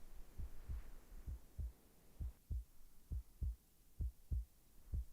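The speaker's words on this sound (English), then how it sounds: "A heartbeat. Right outside the door." Heartbeat outside a door in the game Reverse: 1999: steady, low, thudding double beats, about a dozen in a row, muffled and fairly quiet over a faint hum.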